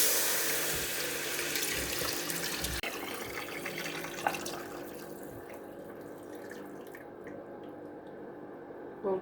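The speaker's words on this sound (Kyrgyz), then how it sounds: "эми суу куябыз" Water pours steadily into a pot of fried flour during preparation of the Kyrgyz drink jarma, a continuous splashing stream that is loud at first, then thins and softens, with no talking.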